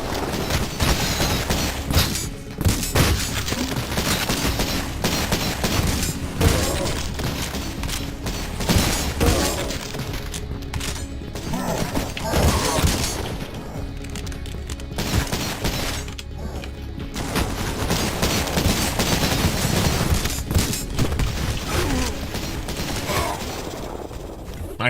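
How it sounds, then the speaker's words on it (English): Shotgun fire in the first-person shooter CULTIC, dense and loud blasts with crashes and booms packed tightly together throughout, with occasional speech mixed in. "I've just got shotguns,"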